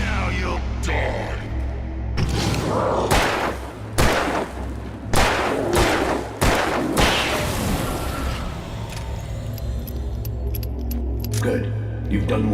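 Gunfire in the Alan Wake horror game, a run of loud sharp shots at irregular intervals over a low droning ambience, with a voice speaking in the background.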